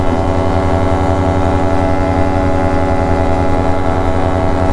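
Yamaha RX135 two-stroke motorcycle engine cruising steadily at 60–80 km/h on a long ride, a continuous, loud, even drone with a low rumbling pulse throughout and no speech.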